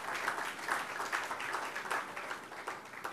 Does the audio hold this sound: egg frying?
no